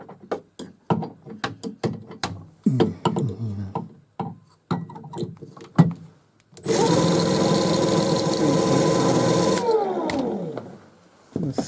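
An electric motor being spun and tested as an AC alternator: a steady loud whirring hum holds for about three seconds and then winds down, after a stretch of speech and clicking handling noises.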